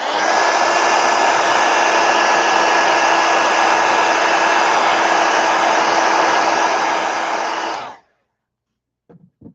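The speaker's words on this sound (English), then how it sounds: "let me hit it with a heat gun" A heat gun blows steadily and loudly over an ink drawing for about eight seconds, a constant roaring hiss with a faint whine, then cuts off abruptly, leaving near silence with a couple of small clicks.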